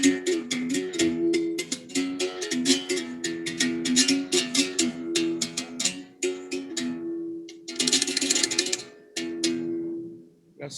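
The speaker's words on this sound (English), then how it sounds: "It's a gourd resonated musical bow." A gourd-resonated musical bow, a beating bow, struck with a stick in a fast, steady rhythm of bright, twangy plucks over a sustained ringing pitch, played alone without talk.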